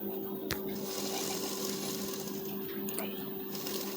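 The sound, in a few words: sewing machine stitching a blouse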